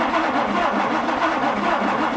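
An engine running steadily after starting, a close, loud, even mechanical drone with a regular pulsing rhythm and no voices.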